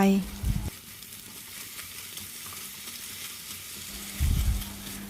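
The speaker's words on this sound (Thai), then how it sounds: "ผัดให้หมูสับสุกแล้ว" Minced pork being stir-fried in a hot pan for a Thai home-style dish, a steady close sizzle with spatula scraping and stirring, louder bursts at the start and near the end.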